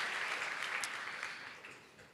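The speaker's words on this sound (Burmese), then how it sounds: "လက်ခုပ်တီးပြီးဂုဏ်ပြုရအောင်" A church congregation at a summer camp service claps together, a dense burst of applause that gradually fades toward the end.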